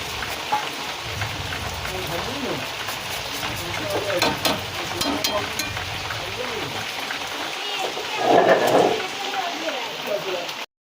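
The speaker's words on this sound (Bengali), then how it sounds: "অনেকটাই মাংস কষানো হয়ে গেছে সামান্য পরিমাণ বাকি আছে" Chicken kosha being sautéed in a pan with gondhoraj lemon zest, a steady sizzle with scraping stirs and a louder burst of frying near the end, under a speaking voice.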